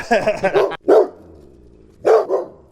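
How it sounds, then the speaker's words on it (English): A pet dog barks for a treat, a quick run of several sharp barks followed by a couple more separate woofs after a pause, close and clear indoors. "she was barking to get a treat"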